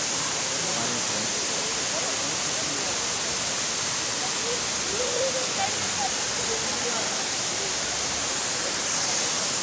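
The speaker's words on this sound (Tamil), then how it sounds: "தண்ணி ரொம்ப ஃபோர்ஸாக விழுது." Silver Cascade waterfall in Kodaikanal pours with force, a loud, steady, full-bodied roar of falling water that fills the whole stretch without pause.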